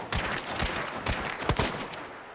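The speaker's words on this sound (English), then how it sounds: "There's another guy shooting at me." Video game gunfire crackles in a rapid, irregular string of shots and short bursts, fairly close and loud, with no talking.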